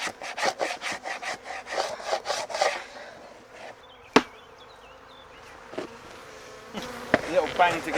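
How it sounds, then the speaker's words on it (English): Honey bees buzz around an open hive, a faint hum with a few bees passing close, after a burst of rhythmic scraping at a wooden frame and a sharp bang. "Little bang to get the bees off."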